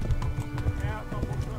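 Horse hooves clip-clop at a steady walking rhythm in Kingdom Come Deliverance, a tired horse plodding along with close, even hoofbeats while someone talks over them.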